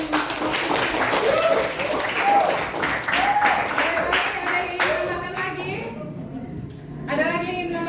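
Students clapping together in a classroom, a burst of close hand claps with speech over them that fades out near the end, followed by a brief further sound.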